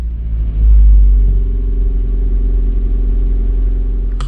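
A Nissan Silvia S15 engine rumbles close by, swelling in a brief rev before settling back to a steady low idle.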